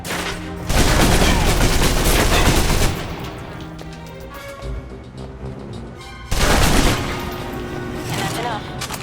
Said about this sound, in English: Now for your submachine guns.